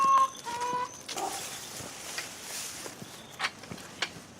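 Dogs waiting in a backyard whimper and whine in short high-pitched bursts at the start, then soft shuffling and faint movement nearby with a chicken around, no talking.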